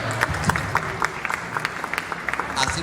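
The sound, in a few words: audience applause for a speaker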